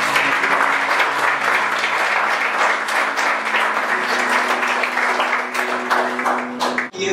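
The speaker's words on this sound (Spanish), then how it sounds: "Dale un aplauso al Señor." A church congregation claps together in worship, a loud, sustained wash of many hands that continues without a break and stops abruptly near the end.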